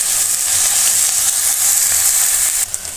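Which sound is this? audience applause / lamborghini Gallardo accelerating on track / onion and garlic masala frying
onion and garlic masala frying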